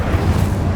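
A brief, loud burst of spell fire in Hogwarts Legacy, a short booming whoosh with dense rumbling energy, heard alone without any voices.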